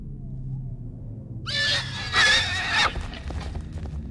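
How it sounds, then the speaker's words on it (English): A horse in a horror video game gives a loud, close whinny lasting over a second, followed by softer trailing snorts and light hoof clatter, with no talk over it. "It's a horse."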